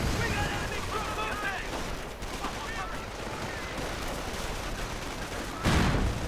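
Artillery fire in a real-time strategy game battle, dense booms and gunfire crackling continuously with a heavier blast near the end, with a commentator talking over it.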